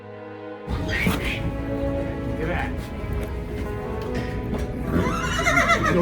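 A horse whinnies loudly nearby, followed by more neighs and snorts over a busy background with people talking.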